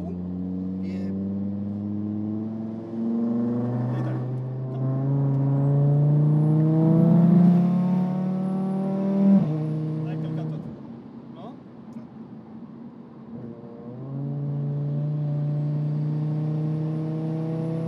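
A 650 hp Audi TT RS with a turbocharged 2.5-litre five-cylinder engine revs repeatedly from inside or near the car, its rising harmonic tone swelling and dropping in several loud pulls while someone talks over it.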